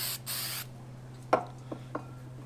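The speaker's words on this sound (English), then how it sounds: "Spray some of that on there." An aerosol can of paint prep sprays in a steady hiss for about half a second, followed by a few faint taps and rubbing sounds.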